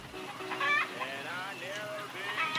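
Chickens cluck and squawk in a busy flock, the calls overlapping at moderate volume, with a brief crow-like cry mixed in and a voice faintly underneath.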